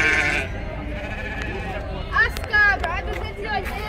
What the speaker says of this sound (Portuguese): As cabras